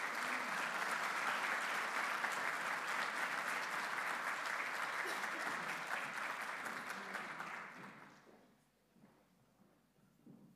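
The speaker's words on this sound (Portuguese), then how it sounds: "Um aplauso para ele." An audience at a ceremony in Viseu applauds the president of the Portuguese Medical Association: sustained, dense clapping from a large crowd for about eight seconds, then fading out to quiet room tone.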